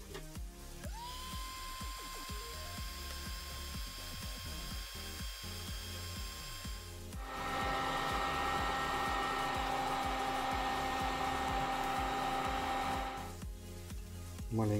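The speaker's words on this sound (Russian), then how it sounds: "Сейчас при помощи фена нагрею край полипропилена и попробую заострить его, чтобы получился такой остренький конус." A heat gun warms the edge of a polypropylene piece with a steady whirring blow. It grows louder and fuller midway, while clicks and handling knocks sound over it, and no one speaks.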